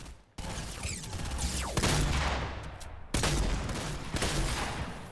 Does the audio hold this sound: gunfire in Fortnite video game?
yes